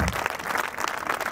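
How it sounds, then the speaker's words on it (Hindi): Steady crowd applause at a school annual function and awards ceremony, a dense patter of many hands clapping close and even throughout, with no voices over it. "तालियां कमजोर है मेरे बच्चों"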